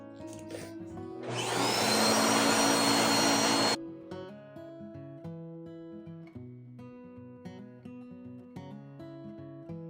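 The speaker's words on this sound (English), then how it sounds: "then we'll quickly vacuum it up" A vacuum cleaner roars loudly for a couple of seconds, sucking up loose scenery material from an N gauge model railway track, then cuts off, leaving quieter clicking and tapping sounds.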